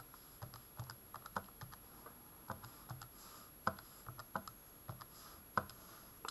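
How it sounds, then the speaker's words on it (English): Irregular light clicks of keys being pressed as numbers are entered on a calculator, close and quiet, with no talking. "again, we can go to our calculator and type it in carefully"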